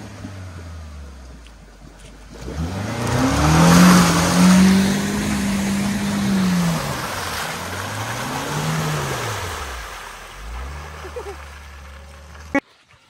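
A car pulling away forward in first gear on a muddy dirt road, engine revving up and falling in rising and dropping pitch over splashing, churning tires, close and fairly loud.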